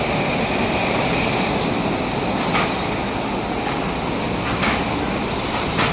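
Train passing close by, loud continuous rumble of railcars with squealing wheels and steady rolling noise throughout, no voices.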